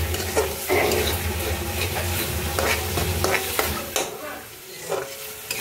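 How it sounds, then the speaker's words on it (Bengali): Fish dropped into spice paste and frying in a pan, a loud, close, steady sizzle with scraping stirring strokes and occasional crackles, no talking. "এবার এই মাছটা আমি দিয়ে দেবো"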